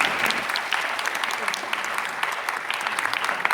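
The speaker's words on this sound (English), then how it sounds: "I think he deserves a round of applause for that." An audience breaks into applause, many hands clapping in a thick, steady patter, with a few voices faintly mixed in.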